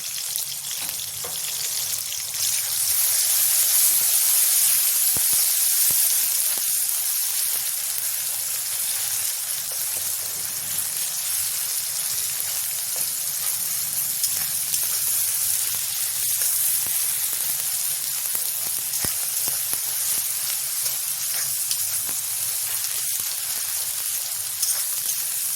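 Ground cumin and spices sizzle steadily in hot oil in a pan while khichuri is being made, a continuous bright frying hiss close up with faint stirring and no talk.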